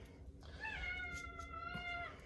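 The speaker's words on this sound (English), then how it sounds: "listen to the noisy cat" A cat lets out one drawn-out meow over a faint, steady background hiss, fairly quiet and without any talking.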